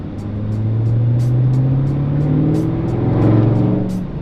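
Dodge Mustang car engine revving on the road, a loud, close, throaty drone whose pitch rises steadily and then eases, with faint ticking over it.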